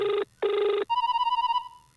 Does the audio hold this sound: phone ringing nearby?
yes